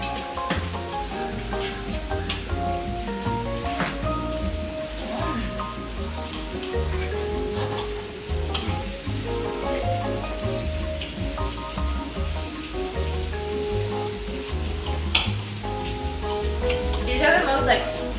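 Steak sizzling in a hot pan as part of a multi-course meal, a steady crackling fry running throughout with occasional clinks and kitchen noise, while people talk and move around nearby.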